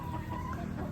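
A flock of laying hens clucks and murmurs inside a layer poultry building, a dense, continuous chatter of overlapping bird calls with no voices, fairly quiet.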